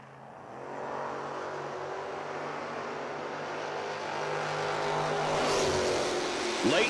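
Drag race launch of a 1969 Nova and a 2002 Camaro at a footbrake racing event, engines building from a steady rumble into a loud roar that swells as the cars pull away.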